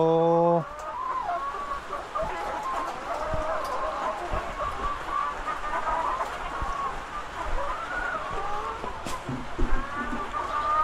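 Several chickens cluck steadily at close range, overlapping calls with a busy, continuous farmyard feel and a brief sharper call at the very start.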